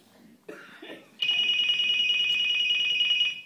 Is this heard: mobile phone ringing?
yes